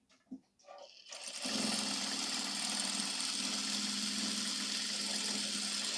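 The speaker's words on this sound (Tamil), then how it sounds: "இப்போ நார்மலா வந்து இந்த மோட்ல வச்சு நான் உங்களுக்கு ஸ்டிச் பண்ணி காமிக்கிறேன் பாருங்க." A Juki DDL-7000A industrial sewing machine stitching: after a second of near-quiet with a few small clicks, the motor starts and settles into a loud, steady, close whirring hum that runs unbroken to the end, with no voices.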